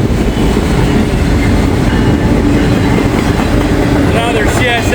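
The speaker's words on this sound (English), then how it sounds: "Another CSX train." CSX freight train with auto racks passing close by at speed in the rain, a loud continuous roar and rumble of wheels with steady clatter.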